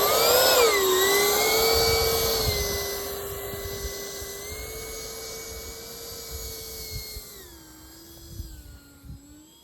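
A Hobbyking Vampire V3 RC plane's electric motor whines loudly during takeoff. The high pitched tone holds steady, then shifts as the plane pulls away and fades into the distance over outdoor ambience.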